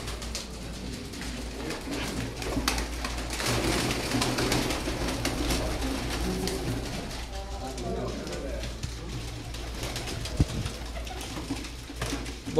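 High-flying pigeons coo softly and repeatedly close by, their low murmuring calls blending with voices and background bustle.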